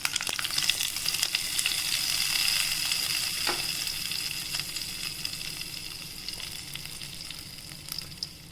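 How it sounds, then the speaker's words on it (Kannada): Mustard seeds and chilli crackle and sizzle in hot coconut oil as a tempering for a Havyaka-style raw jackfruit buttermilk curry, a steady close hiss dotted with sharp pops throughout. "ಈಗ ಇದನ್ನು ಮಜ್ಜಿಗೆ ಹುಳಿಗೆ ಒಗ್ಗರಣೆ ಮಾಡ್ತಾ ಇದ್ದೇನೆ."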